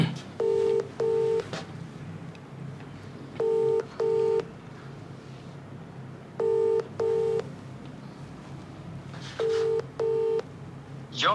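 Telephone keypad dialing tones come in four paired bursts of beeps, evenly spaced and clear over a low background hum, as a call is placed and routed to voicemail.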